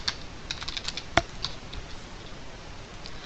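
Close, steady typing on a computer keyboard as a password is entered, quick irregular key clicks with one sharper louder tap partway through, no voices.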